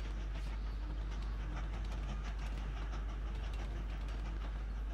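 Trains running in the video game Train Valley, a steady clattering rail rumble with a strong constant low drone throughout, dense and continuous without pauses.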